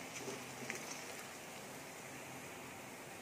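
Onions sizzling in hot oil in a pan while browning for beef karahi, a steady soft hiss that stays even and close throughout, with no talking.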